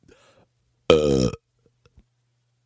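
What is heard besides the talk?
wet belch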